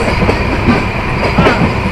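The Banalata Express from Dhaka to Rajshahi rolls along the rails, a loud close rumble with rapid clickety-clack wheel beats throughout and no voices.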